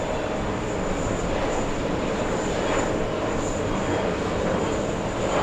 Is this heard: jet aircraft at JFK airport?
yes